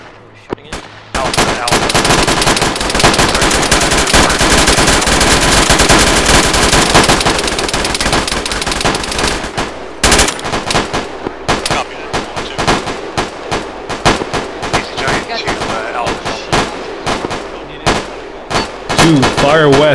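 Sustained, loud automatic machine gun fire during an Arma 3 infantry firefight, dense bursts for about ten seconds, then scattered shots and rattling volleys continuing nearby.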